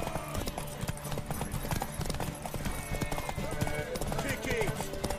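Galloping horse hooves pound continuously in The Witcher 3: Wild Hunt during a horse race, under busy background noise, with voices talking over the rapid clip-clop.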